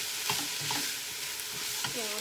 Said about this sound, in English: Now we're going to add our black beans. Okay. And give that a stir.